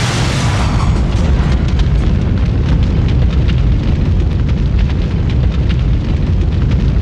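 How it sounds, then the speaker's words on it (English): Helicopter crash explosion in the video game Resident Evil 2, a dense roaring blast rumble that starts loud and sustains as crackling fire and debris noise, no talking. "his gunfire kills the pilot and the helicopter crashes into them"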